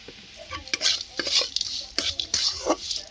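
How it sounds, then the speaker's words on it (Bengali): A spoon stirs sugar and turmeric as the sugar caramelises in a pan on low heat for a village-style sweet pineapple chutney, giving steady close scraping and soft sizzling in irregular strokes, with no talking. "অল্প আঁচে নাড়াতে হবে"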